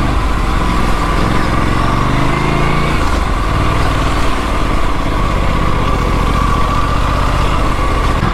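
Aprilia RS 457 sport motorcycle engine running continuously while off-roading on rough ground in Bandorchalia, Titabar, Jorhat, a steady loud drone with slight variations in pitch, close up and without talk.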